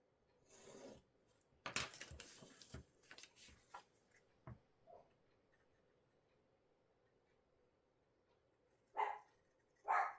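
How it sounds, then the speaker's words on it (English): Scattered tapping and rustling noises, then a small dog gives two sharp, fairly close barks near the end. "you're going to hear the little guy barking"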